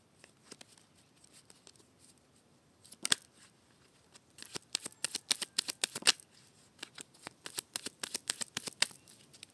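A tarot deck is cut and shuffled by hand, giving a fast run of crisp card riffles and slaps, sparse at first and then dense and steady, close and fairly quiet with no talk.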